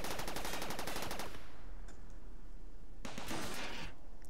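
Turrets in RimWorld let off rapid automatic bursts, a fast rattling volley up front, a pause, then another short burst, close and loud with no voices.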